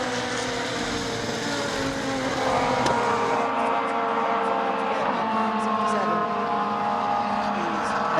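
Ex-BTCC Honda Civic race cars run together through the field at Donington, their engines a sustained howl that rises and shifts as they pass, with a commentator talking over it.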